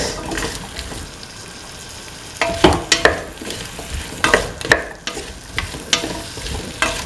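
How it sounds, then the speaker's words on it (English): A spoon scrapes and knocks through tomato and pumpkin pieces in a pan, in irregular clattering strokes over a soft sizzle, close and fairly loud, with no voices. "Mix the tomato pieces and the pumpkin pieces together."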